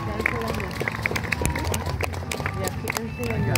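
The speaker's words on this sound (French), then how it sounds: "On peut l'applaudir, s'il vous plaît." An audience claps for a knight at a jousting tournament, a dense, steady patter of applause mixed with crowd voices and chatter.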